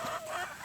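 A chicken gives a brief, faint cluck in a backyard flock of chickens regrowing their feathers, a single short call over quiet outdoor background.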